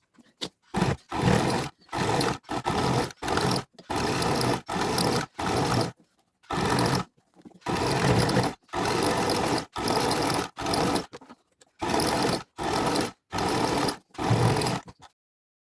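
A sewing machine stitches the lining of a fabric coin purse, running in loud, close, rapid bursts of a second or so with short pauses between, where a backstitch is sewn at each end.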